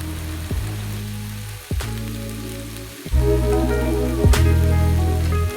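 Noodles sizzle loudly as they are added to a hot pan for a shrimp and beef chow mein stir fry with vegetables, a steady hiss broken by a few clunks of tossing or stirring, with no talking.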